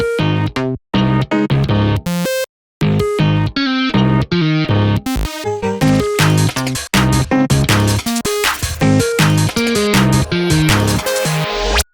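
A dense dariacore glitchcore track races along with synth hocketing, bright synth notes traded rapidly between layers over punchy beats, with abrupt glitchy cuts and brief dropouts, loud and without voices.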